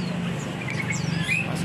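Small songbirds at a roadside bird market give a few faint, thin chirps over a steady low hum of background noise.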